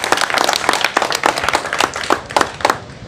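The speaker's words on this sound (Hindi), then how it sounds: "एक मरतबा तालियां बजा दें हरफ़े आगे।" Loud, close clapping from a crowd at a Samajwadi Party joining event, brisk irregular claps bunched into a steady burst of applause with no talk over it.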